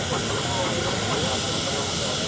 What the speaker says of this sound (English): Thomas Adrian sent his steamrollers all over the world.